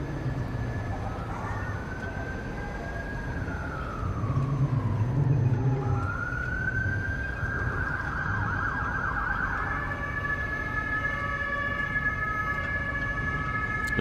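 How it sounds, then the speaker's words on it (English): French police car siren heard from a ship's deck at the Port of Southampton, a rising and falling wail that sweeps up and holds, mid-distance, over steady low harbour rumble with no talk. "Sounds like I hear a French police car in the background."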